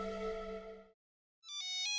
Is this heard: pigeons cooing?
no